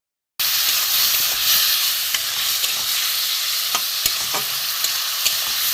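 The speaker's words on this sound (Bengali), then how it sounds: "মশলার সাথে একটু মেখে নেবো, ভেজে নেবো, কষে নেবো একটুখানি।" Spice paste cooks in a pan with a dense, continuous sizzle and hiss while a utensil scrapes and taps now and then as it is stirred, a close steady frying sound.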